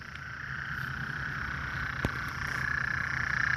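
A steady chorus of small cricket frogs calls at night, a continuous high chirring with one sharp click partway through.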